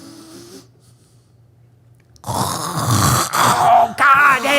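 A sleeping person snores at night, a loud rough groaning rasp after a quiet stretch, with breathy wheezing swells close to the listener.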